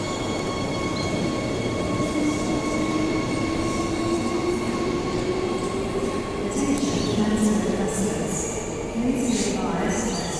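A Midland Line train in Perth departing from a station, a loud, steady roar and hum of the train pulling away nearby with faint wheel squeal, lasting throughout.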